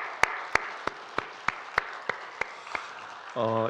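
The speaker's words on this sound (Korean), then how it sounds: "우리를 기억하신 하나님께 영광의 박수 올려드리겠습니다." A church congregation claps in unison at an evening autumn worship service, about ten slow, evenly spaced claps on a steady beat, followed by a voice starting to speak.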